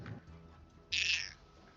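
A pet cat gives a single short croaking call, close and fairly loud, in place of a normal meow, rasping and frog-like against a quiet room.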